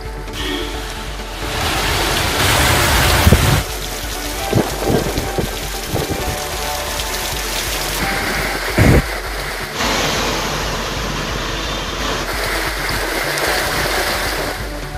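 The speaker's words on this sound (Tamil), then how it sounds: "பரமக்குடியில் சுமார் 2 மணி நேரம் கனமழை வெளுத்து வாங்கியது." Heavy rain pours steadily onto town streets in Paramakudi, Tamil Nadu, a loud, dense hiss with splashing and running water, a few louder bursts rising through it, and no voices.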